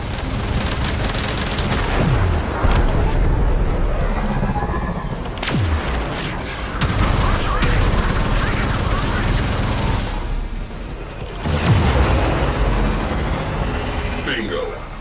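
Sci-fi space combat in a video game: dense volleys of enemy ship weapon fire crackle and boom in rapid bursts with sweeping zaps, loud and close, while a voice talks over the barrage.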